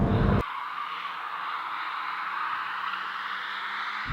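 A race car skids and spins out, a loud sustained tire squeal and broadband rush following a sharp initial burst, with no talking over it.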